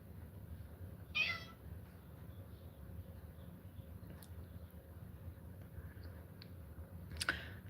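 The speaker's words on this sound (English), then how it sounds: "This is my cat Slater." A house cat meows a few times, short faint cries spread apart over a low steady background rumble, with no one talking.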